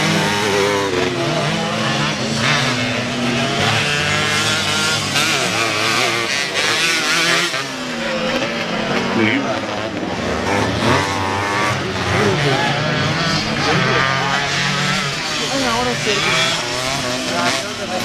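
Motocross bikes in a beginners' heat racing around a dirt track, a loud continuous snarl of several engines revving and shifting up and down, with an announcer talking over the roar.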